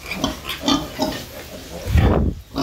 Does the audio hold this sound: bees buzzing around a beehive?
no